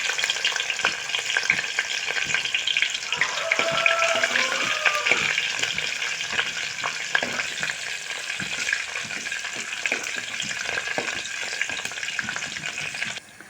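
Chopped onions and fenugreek seeds fry in a pan of oil for a drumstick curry, giving a steady close sizzle with bursts of crackling and stirring scrapes, plus a brief trickle of water, and no voices.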